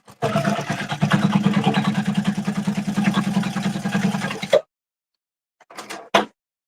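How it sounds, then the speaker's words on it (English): A sewing machine stitches down a handbag seam in a steady, loud, fast mechanical whir for several seconds, then stops abruptly, followed by a couple of brief handling clicks. "I'm just going to go ahead and stitch down."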